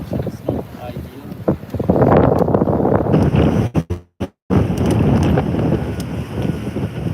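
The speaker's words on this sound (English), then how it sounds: "And the wind is good, even if the wind direction is not ideal." Strong wind buffets the microphone aboard a sailboat heading from Roatán to Guanaja, a steady roaring gust with a brief dropout midway.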